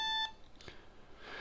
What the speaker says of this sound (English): That was an alarm clock I had set for something else in my game.